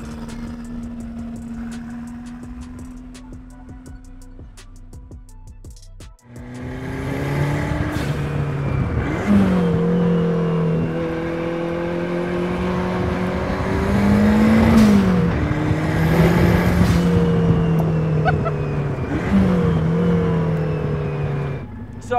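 Lotus 7 turbo kit car idling, then pulling away and accelerating hard through several revving gear changes, the engine loud and close with turbo whine rising and falling.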